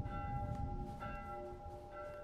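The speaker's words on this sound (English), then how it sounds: "Quasimodo really do be ringing those bells." Church bells ring out in a game town in The Last of Us Part I, resonant metallic tolls with long sustained hum, struck at roughly half-second intervals and heard moderately far off.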